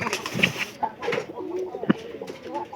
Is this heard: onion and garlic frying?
no